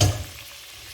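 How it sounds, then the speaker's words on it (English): Meat sizzles in hot vegetable oil for a mutton karahi, a loud burst of crackling spatter at the start easing into a steady, softer fry. "so we'll give our meat a bit of a fry"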